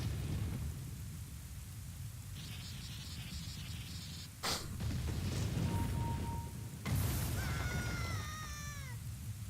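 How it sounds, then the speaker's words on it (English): Thunderstorm in the Legend of Zelda: Ocarina of Time 3D video game, following the Sun Song, with steady rain and two sharp thunder cracks over a game soundtrack of tones and swooping melodic lines. "The sky streaks lightning out"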